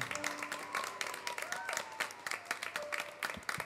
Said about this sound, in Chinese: 掌聲唔好停，掌聲唔好停！